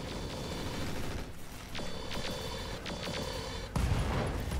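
Volley of mech weapons firing in the Roguetech mod of BattleTech, a run of sharp overlapping shots and booms over a steady battle rumble, ending in a louder blast.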